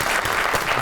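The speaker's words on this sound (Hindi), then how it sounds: "आपकी बहुत सी तालियों में द वन एंड ओनली दुआ खान।" Studio audience applauding to welcome a guest on a Pakistani comedy talk show, dense steady clapping filling the whole brief moment at close range.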